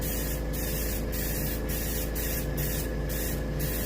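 A small airbrush sprays paint onto a striped bass skin mount, a steady close hiss over a constant compressor hum, broken by regular short bursts as the trigger is worked.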